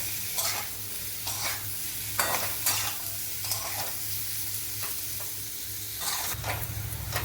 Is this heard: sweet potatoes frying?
yes